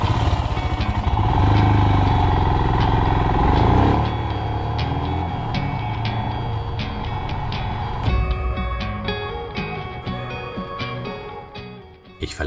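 Royal Enfield Himalayan motorcycle cruising on an open road across the flat plains outside Zagreb, a steady loud engine drone with wind rush that shifts gear around the midpoint, heard close from the rider's position.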